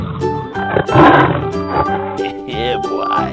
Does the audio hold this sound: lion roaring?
yes